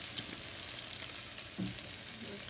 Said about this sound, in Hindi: फ्राई करेंगे इसको 1 मिनट तक